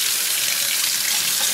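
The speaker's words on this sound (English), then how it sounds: "I'm running the water over here." Water from a kitchen faucet runs steadily into a sink over a garbage disposal, a constant close hiss and splash that holds evenly from start to finish with no talking.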